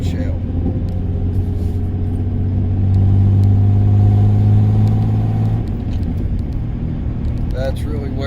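Road and engine noise fill the cab of a pickup truck with a camper shell, leaking in through the seal between the rear window and the shell, a steady loud low rumble that swells in the middle. Someone talks over it.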